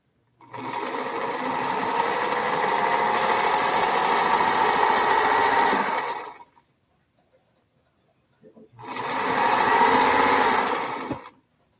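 A sewing machine stitching quilt blocks, running in a loud, steady whir for about six seconds, pausing briefly, then starting up again for another few seconds. No voices are heard.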